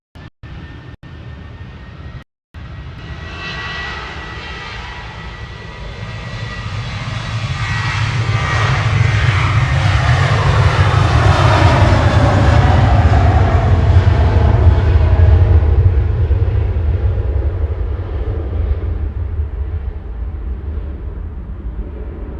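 An airplane passes at Manchester Airport, its engine roar swelling from a distant rumble to a loud, broad peak and then slowly easing off, heard alone without talk.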